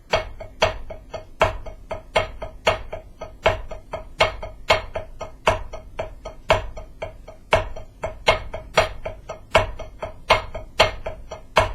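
Crisp drumstick strokes on a practice surface in a steady repeating accent routine, control strokes with some hits louder as accents, close and dry with no voices.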